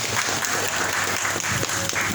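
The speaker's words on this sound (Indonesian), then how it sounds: "tepuk tangan dulu dong teman-teman peserta" Participants at a Ramadan exercise talk show in a Bandung fitness centre clap steadily in a dense, close burst of applause that fills the whole short stretch.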